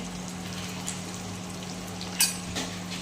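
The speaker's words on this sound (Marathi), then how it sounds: "कांदा चांगला सोनेरी रंग येईपर्यंत परतून घ्यायचा" Onion, cumin and curry leaves sauté in a pan with a steady, soft frying hiss throughout, broken by a sharp utensil clink near the end.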